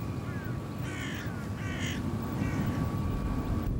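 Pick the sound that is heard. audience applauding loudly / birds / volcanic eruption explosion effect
birds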